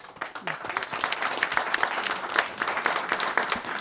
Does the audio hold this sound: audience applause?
yes